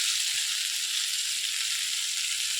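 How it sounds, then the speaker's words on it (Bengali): Loud, steady sizzling of potatoes and vegetables frying in hot oil, a continuous bright crackle with no pauses or voices. "ভেজে নিয়ে যতক্ষণ না ভালো করে ভাজা হয়"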